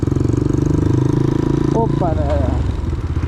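An Enduro 200cc motorcycle ridden over a rough road, its engine chugging in a close, rapid pulsing rhythm throughout while a rider calls out briefly over it.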